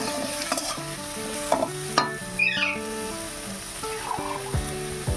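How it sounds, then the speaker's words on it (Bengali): A spoon stirs red chili powder into a thin parshe (mullet) fish curry in a hot pan, giving repeated scraping knocks over a steady sizzle, close and fairly loud throughout, with no talking. "অল্প করে লাল লঙ্কার গুঁড়ো দিয়ে ভালো করে নাড়াচাড়া করে নেব"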